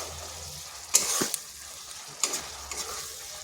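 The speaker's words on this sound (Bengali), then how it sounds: "মশলাটা একটু সময় ধরে কষে নিতে হবে, যতক্ষণ না তার একটা সুন্দর গন্ধ বের হচ্ছে।" Spice masala frying in a kadai with oil, a soft background sizzle broken by a few brief stirring scrapes and clatters, close and fairly quiet, with no voices.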